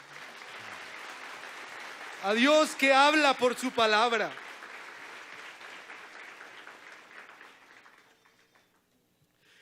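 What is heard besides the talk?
congregation applauding in church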